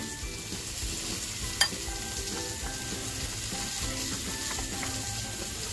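A homemade all-in-one masala mixture fries in a pan and is stirred, giving a steady sizzle under faint scraping with one sharp clink of the utensil, no voices.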